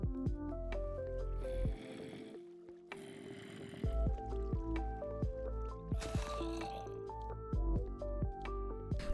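Sponges soaking up water inside a flooded room in a blocky survival video game, heard as wet squishes and drips over a background of plucked, twinkling game music.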